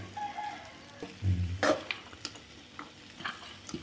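Perandai (veld grape) tossed into a pan with cumin and sautéed, a quiet sizzle with a thump as the pieces drop in, then scattered light stirring scrapes.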